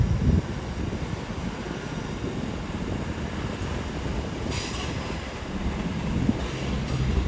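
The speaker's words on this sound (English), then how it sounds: "the 1302 Avanti West Coast service to Chester with 221 106 now leading" An Avanti West Coast Class 221 train, unit 221 106 leading, working a service to Chester at London Euston, heard as a steady broad rumble and rushing noise with faint wind buffeting.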